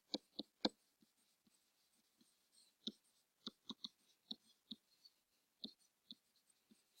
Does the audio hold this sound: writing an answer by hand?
yes